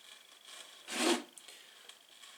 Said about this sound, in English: Lubricate the other side of the tyre.